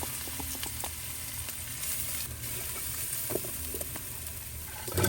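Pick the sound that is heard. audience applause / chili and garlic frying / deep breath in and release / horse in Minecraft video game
chili and garlic frying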